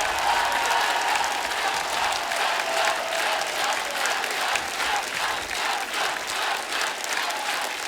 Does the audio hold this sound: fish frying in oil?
no